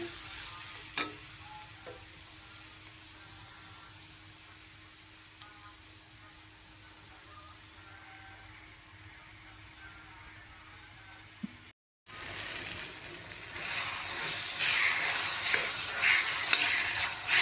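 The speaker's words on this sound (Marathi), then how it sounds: "आता वांगं व्यवस्थित परतून घेऊया" Onion and brinjal frying together in a pan for vangyache bharit, a steady sizzle with stirring scrapes, then a brief cut and a louder, brighter sizzle as the vegetables are tossed.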